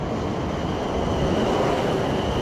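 A Portsmouth train rumbles in close by, a steady loud roar with a faint high whine running through it.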